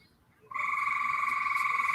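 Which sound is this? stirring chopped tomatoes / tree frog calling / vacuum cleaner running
tree frog calling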